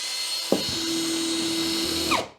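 Impact wrench revving at full speed during a tool test, a sharp start followed by a steady high-pitched whine for under two seconds before it winds down, close and loud with no talk.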